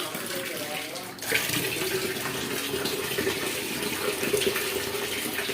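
Water pours in a steady, close rush into a pan of toor dal with spinach, starting about a second in and running continuously to the end.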